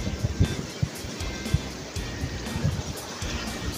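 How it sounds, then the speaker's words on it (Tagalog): Large ocean waves surge and break around a small fishing boat at sea off Bolinao, with wind gusting across the microphone. The roar is churning and continuous with irregular splashes. "hindi natin magagawa ng remedyo itong ganitong malalaking alon"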